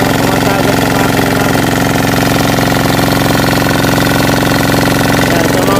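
A leaking engine on a farm machine runs steadily at idle, a loud, constant mid-pitched drone with even vibration and no other sounds.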